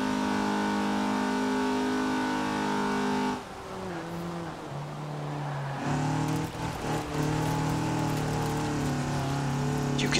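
A stock 1980 Fiat 124 Sport Spider in Forza Horizon 4 labours uphill, its engine holding a strained steady drone, dipping briefly when it shifts, then climbing back to a loud sustained whine amid rain-like noise.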